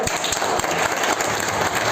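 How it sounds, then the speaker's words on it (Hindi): An audience applauds at a business meeting held at a fort, a continuous wash of many hands clapping at moderate volume, steady for two seconds with no speech over it. "मैं चाहूंगा एक बार जोरदार तालियां"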